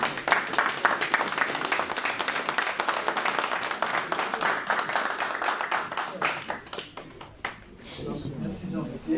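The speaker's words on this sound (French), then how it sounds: "nous pourrons nous applaudir nous-mêmes" Audience at a community reunion event clapping, mixing dense applause with sharp individual claps, with voices talking over it and the clapping thinning near the end.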